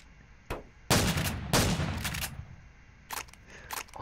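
A gun in the video game Garry's Mod fires several loud bursts: a short crack, then two longer clattering volleys and a few final shots, close and harsh with no talking.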